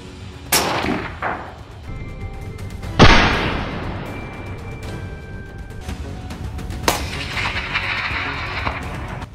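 Gunshots ring out during a baboon hunt in rural South Africa: a few sharp, loud reports, one especially strong near the middle, spaced apart with outdoor reverberation and quieter clanks between them.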